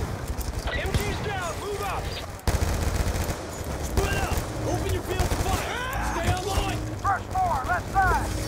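Machine gun fire in Call of Duty Black Ops 2 rattles in rapid, dense bursts through a combat mission, loud and repeated with brief pauses, while people talk over the shooting.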